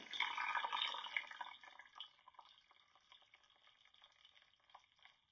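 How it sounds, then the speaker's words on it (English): Water poured into a sourdough starter in a bowl, a steady splashing stream that starts strong and tapers into softer trickling and drips, quiet and close with no talk. "So now we're going to add 700 grams of water to our starter."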